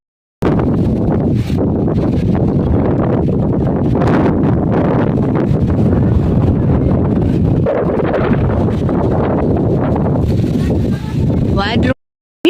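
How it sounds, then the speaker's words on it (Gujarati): Strong wind from an approaching storm buffets the microphone in a dense, continuous roar with gusty surges, loud and close, before cutting off abruptly. "મિત્રો આપણે હા વાવાઝોડું આવી ગયું"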